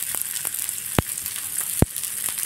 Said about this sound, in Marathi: दोन्ही साईडने तशीच भाजून घ्यायची खरपूस.